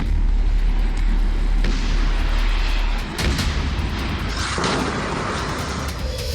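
Israeli air strikes and bombing in Gaza: a heavy, continuous rumble of blasts and booms, loud throughout with sharper impacts breaking through the roar.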